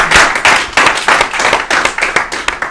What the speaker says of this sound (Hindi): ताली बजाइए हमारे लिए।